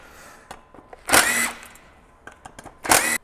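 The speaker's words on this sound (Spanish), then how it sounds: "pistola de impacto." Impact gun removing brake discs from a Yamaha R1M motorcycle, two short loud buzzing bursts close by with small clicks and handling noises between them.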